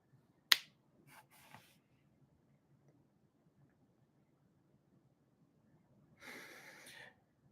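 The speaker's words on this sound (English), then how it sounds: "When I snap my fingers, you will forget." A single sharp finger snap rings out close and crisp near the start, followed by soft breathy noises and a longer hiss of breath later against near silence.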